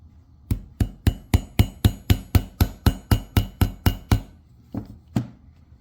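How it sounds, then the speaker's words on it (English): A hammer strikes rivets set into scrap metal dominoes, about fifteen sharp, evenly spaced metallic blows close by, then two more after a short pause. "I'll start getting these rivets set."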